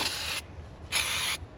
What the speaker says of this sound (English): So we spray all this, spray all in here.